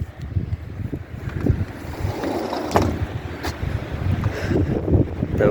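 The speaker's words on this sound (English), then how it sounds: "it's a little windy out" Gusty wind blows through large pine trees outdoors, making an uneven roaring rush that swells and eases in waves. Buffeting on the microphone can be heard with it.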